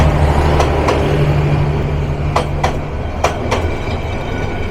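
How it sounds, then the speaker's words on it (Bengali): The Kishoreganj Express intercity train passes straight through Tongi railway junction at speed, a loud steady roar with low rumble and sharp clacks of wheels over rail joints. "Tongi railway junction through pass করে যাচ্ছে আন্তনগর কিশোরগঞ্জ এক্সপ্রেস"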